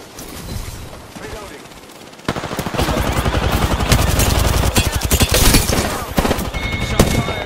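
Rapid bursts of video game gunfire in a sci-fi shooter, loud and dense after a quieter opening, with shots crackling in quick clusters and game voice lines over the top.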